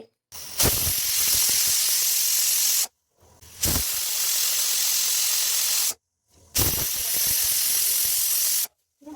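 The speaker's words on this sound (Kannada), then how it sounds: "ಈ ಕುಕ್ಕರ್ ಮುಚ್ಚಳನ ಮುಚ್ಚಿ ಒಂದು ಮೂರು ವಿಜಲ್ ಹಾಕ್ಸ್ಕೋಬೇಕು" A pressure cooker on the stove, cooking rice and sambar with vegetables, lets off three loud hissing steam whistles, each lasting about two seconds, with short silent gaps between them.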